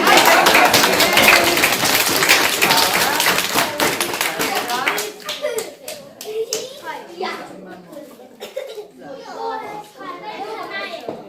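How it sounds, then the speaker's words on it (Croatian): Children and an audience clap loudly and rapidly at a kindergarten celebration, the dense applause thinning after a few seconds into scattered claps amid children's chatter and voices. "Evo sad morate još jače pljeskati."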